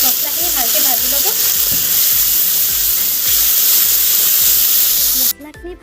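Spice masala sizzles steadily in hot oil in a home kitchen, a close, continuous frying hiss with light stirring, then it cuts off abruptly near the end.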